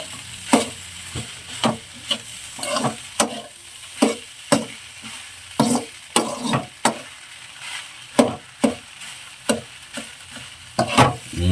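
Egg rice stir-fried in a pan, with sharp rhythmic scrapes and taps of the spatula repeating every half second or so over a low background sizzle, close and alone.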